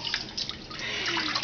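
Water sloshes and splashes softly and close by as a child is washed in a bath, a brief continuous wet swishing.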